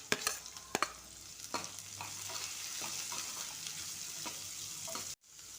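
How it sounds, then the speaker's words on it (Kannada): Carrots, beans and green peas fry in a pan with a soft, steady sizzle, punctuated by sharp clinks and scrapes of a spoon stirring, fairly quiet and close before an abrupt brief cut. "ತರಕಾರಿ ಎಲ್ಲ ಹುರ್ಕೊಂಡಿದ್ನಲ್ವ"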